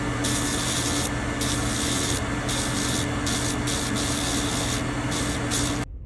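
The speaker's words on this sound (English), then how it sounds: "I'm going to go in with a 320 grit sandpaper wheel to clean up those scratches and also clean up the insides" A 320 grit sandpaper wheel on a rotary tool grinds steadily against a 3D-printed platinum cuban link ring, a close, continuous high rasping whine with brief dips as contact shifts, ending abruptly.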